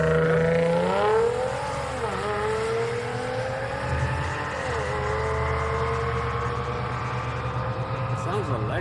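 An Audi S4 makes a solo drag-strip pass at a Houston street night, its engine droning steadily with rising harmonic sweeps through the gears, loud and sustained throughout.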